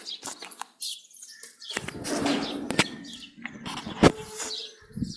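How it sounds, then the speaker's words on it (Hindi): A pet bird chirps in a village home, with short bright calls and tweets scattered across a few seconds, close by, mixed with household movement and a brief wing-flap-like rustle. "मेरी चिड़िया आ गई"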